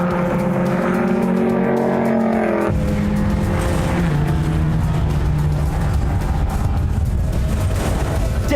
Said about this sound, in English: they're neck and neck as they head down the start-finish straight